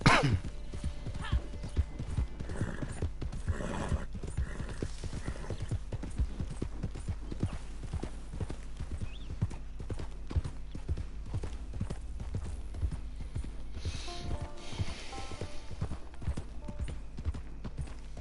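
Horse hooves clip-clop steadily in Red Dead Online, a continuous rhythmic trotting over a low rumbling game soundscape, with an occasional faint whinny and brief voices.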